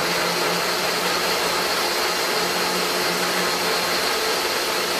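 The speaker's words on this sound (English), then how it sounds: "So we are ready to go ahead and we're gonna go to a puree setting." A blender running on its puree setting with the lid on, blending tomato sauce, gives a steady, loud, continuous motor whir that holds unchanged from start to finish with no speech.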